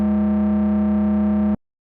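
A loud, sustained distorted synth tone from a Vermona Perfourmer industrial sample, buzzy and harmonically rich, holds steady for about a second and a half and then cuts off abruptly.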